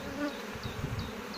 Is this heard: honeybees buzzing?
yes